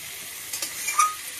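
Spices sizzling and being stirred in a hot pan for a kohlrabi and fish curry, a bright close hiss with a few scraping stirs, no voices.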